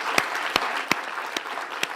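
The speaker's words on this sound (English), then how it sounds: "Can we just give a round of applause?" Sparse, scattered handclaps from a conference audience applauding its speakers, a handful of separate sharp claps spread over two seconds against a quiet room hum rather than a full ovation.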